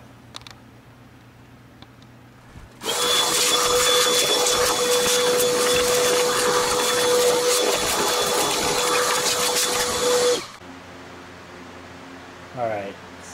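A vacuum cleaner switched on to clear scale and debris out of a Hoshizaki undercounter ice maker, a loud steady roar with a whine running for about eight seconds before cutting off, with quiet background noise around it.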